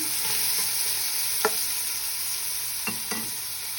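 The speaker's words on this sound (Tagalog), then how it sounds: "Lagay natin yung sibuyas. Ayan. I-browning lang natin." Onions brown in hot cooking oil in a pan, giving a steady bright close sizzle broken by a few brief clicks of a utensil against the pan, with no talking.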